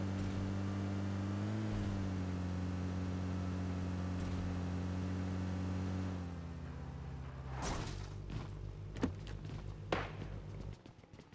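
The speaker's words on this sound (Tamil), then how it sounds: "வண்டி வருது" A vehicle engine hums steadily and loud in a video game shooter, holding a low droning tone before breaking into clattering knocks and sharp bursts near the end.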